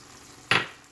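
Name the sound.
stirring chicken curry with seasoning in pan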